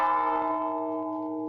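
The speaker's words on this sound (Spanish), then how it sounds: "Las campanas suenan por ti." A single struck bell rings with a bright metallic tone and sustained humming overtones, slowly decaying over a second and a half, alone without talk.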